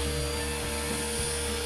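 Radio-controlled scale helicopter with anti-clockwise rotor hovering nearby: a loud, continuous high-pitched turbine whine with steady rotor buzz, no pauses.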